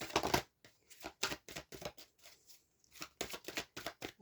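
Tarot cards being shuffled and drawn, a series of crisp, close riffling and slapping bursts in an irregular rhythm, fairly quiet with brief pauses between handfuls.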